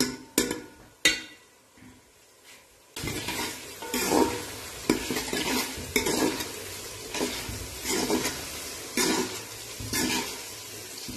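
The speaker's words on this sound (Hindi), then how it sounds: "अब इसमें लहसुन अदरक का पेस्ट और टमाटर शामिल करूंगी मैं और 5 मिनट के लिए इसको भूनूंगी।" Ginger garlic paste, onions and tomato fry and sizzle in a pan while a utensil stirs in repeated scraping strokes, loud and close, after a few sharp knocks at the start; no voices.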